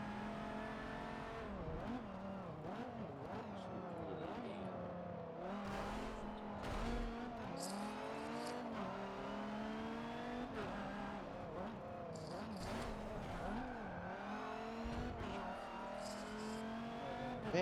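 Race car engine from a racing video game lapping the Nordschleife, a steady, loud drone that keeps shifting pitch as it revs up and down through gears, with occasional brief tire squeals and no talking.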